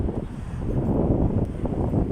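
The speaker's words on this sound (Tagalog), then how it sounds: "ang lakas ng hangin" Steady, rushing wind roars across the microphone, a continuous low buffeting rumble with no voices.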